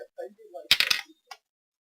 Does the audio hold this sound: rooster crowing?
no